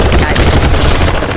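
Rapid automatic gunfire from the video game BattleBit Remastered hammers out in a dense, loud, close burst with no pauses.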